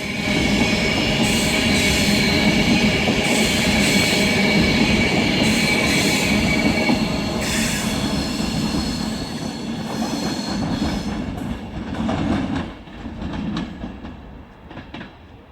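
A train rolls through Stockport station on the West Coast Main Line's Manchester branch, a loud, steady rumble of wheels with squealing and clickety-clack that gradually fades as it moves off, with no talking.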